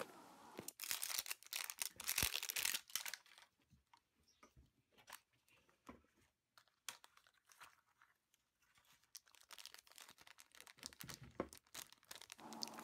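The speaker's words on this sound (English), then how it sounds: "Now we unwrap layer number 2" Toy wrapping paper being torn and crinkled away in quick bursts, loud at first and then quieter, with intermittent rustling and crackling close by.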